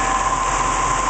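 A BMW prototype electric drive with a regenerative acceleration coil gives off a steady, close electric whine with a low hum beneath it, holding even through a brief stretch as it begins to accelerate.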